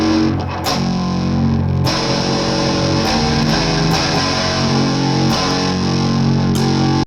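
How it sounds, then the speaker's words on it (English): Electric guitar through distortion and overdrive, thick sustained chords with a buzzing, sizzling top end, struck anew every second or so and ringing loud and alone throughout. "Now there's the overdrive sound as well."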